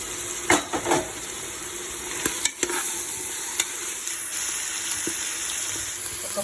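Country chicken frying in oil in a pan, a continuous sizzle with a few sharp utensil knocks and stirring scrapes early on.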